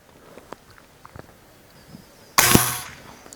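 A single sharp pellet shot from a Falcon air rifle fired at a target 25 yards away, a crisp close crack that decays quickly after a quiet stretch of faint background ticks.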